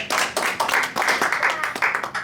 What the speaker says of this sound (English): All right, let's clap for Senior Bob.